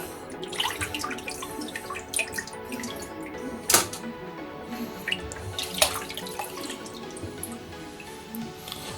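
Water rinses leftover brine off meat in a home kitchen, making a soft continuous splash with scattered drips and a few sharper clatters, close and without talk.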